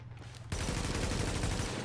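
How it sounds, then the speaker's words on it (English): Warning shots from a gun in The Division video game ring out as a sudden burst of rapid, loud gunfire that starts abruptly after a brief quiet moment and continues densely to the end. "Those are warning shots."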